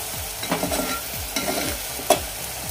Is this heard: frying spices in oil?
yes